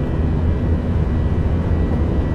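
A steady, loud drone of an aircraft engine in the naval combat game 1971 Indian Naval Front, even and unbroken, with no talk.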